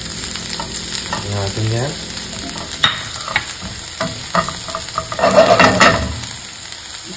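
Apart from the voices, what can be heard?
garlic frying and stirred in a pan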